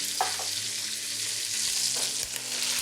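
Thick cut bacon strips frying in a pan, a steady close sizzle and crackle with a few soft stirring scrapes.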